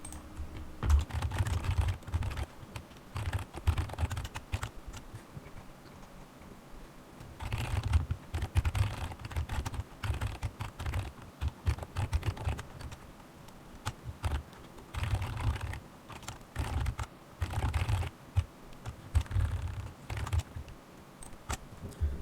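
Steady clicking of fingers typing on a computer keyboard while writing Python code for a moving-average trading robot, close and continuous with short bursts and pauses, no talking.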